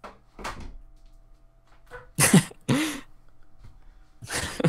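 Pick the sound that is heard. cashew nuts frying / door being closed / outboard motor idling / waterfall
door being closed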